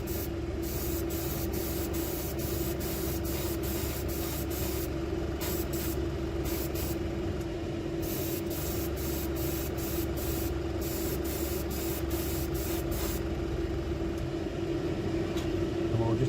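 An airbrush lays down thin coats of fabric paint in a long run of short, rhythmic hissing bursts over a steady compressor drone, close and alone.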